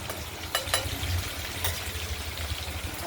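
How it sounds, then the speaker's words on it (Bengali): Steady, soft sizzling of paneer pieces frying in hot oil until golden, with a few sharper crackles and pops over the continuous hiss. "এগুলোকে একটু ভাজা করে নেব হলুদ হলুদ করে"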